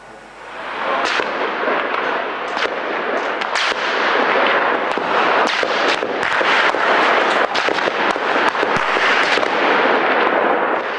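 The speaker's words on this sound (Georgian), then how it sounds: "სროლის ხმა უკრაინის დედაქალაქში რამდენიმე საათის განმავლობაში ისმოდა" Sniper gunfire in Kyiv during armed civil clashes, a loud, dense and nearly continuous crackle of shots and sharp reports over a roaring backdrop, sustained throughout with no clear pauses.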